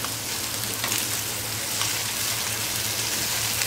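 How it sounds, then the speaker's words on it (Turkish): Steady crackling sizzle of eggplant frying in hot oil, continuous and close, with no talking. "Şimdi bunların da hepsini kızartacağım arkadaşlar."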